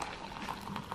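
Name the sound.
pouring hot water into colour-changing Starbucks cup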